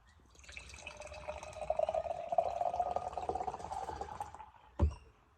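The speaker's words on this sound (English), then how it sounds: "I'm just going to pour that much for now." Azul beer from One Drop Brewing poured into a glass, a steady liquid stream building in the middle then tapering off, ending with a single sharp knock or clink.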